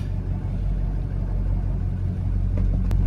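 A 6.0 Powerstroke diesel race truck with a swapped automatic transmission idles in reverse, a low, steady rumbling drone that stays close and even throughout, with a faint click and a brief sharp tick near the end.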